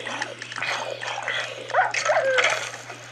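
Dogs in the Minecraft PC game bark and yip in short bursts over a low background hum, fairly close and moderately loud, with whimpers mixed in.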